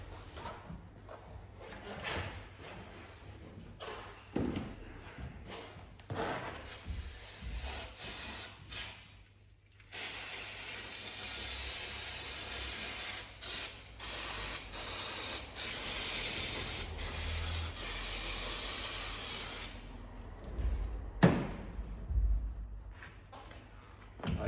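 Cleaner sprayed over a Yamaha Fazer motorcycle engine where fluid runs onto the exhaust manifold, heard as short spritzes and then one long continuous hiss lasting about ten seconds, with handling clatter around it.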